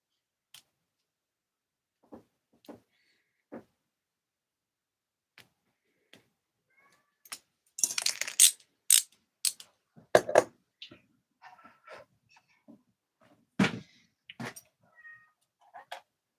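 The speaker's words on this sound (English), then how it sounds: "Can you guys hear that cat?" A cat meows repeatedly from a little distance, scattered cries and a burst of louder, drawn-out meows in the middle, with faint clicks and ticks from lock work between them.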